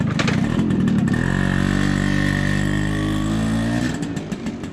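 A stock Honda FR80 motorcycle revs loudly close by: a rough idle gives way to a sustained, steady engine drone with clear harmonics, which then drops back to a rougher, uneven putter near the end.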